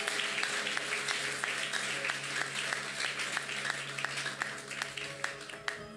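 A church congregation at a Sunday service applauds loudly, with a dense sustained wash of clapping and scattered sharper claps, some voices mixed in.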